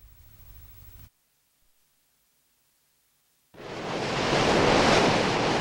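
Ocean waves give a broad, roaring wash of surf noise that rises in after a stretch of silence and swells to a loud, steady rush, preceded by a short softer burst.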